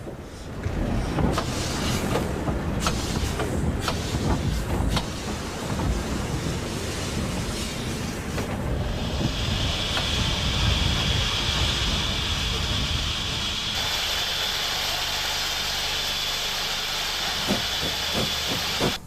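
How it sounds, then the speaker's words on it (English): A loud British Railways steam locomotive, number 7023, chuffs and rumbles as it departs with a Hereford-bound train, then a long, steady hiss of steam takes over and the train rolls on. "is departing on a Hereford-bound train"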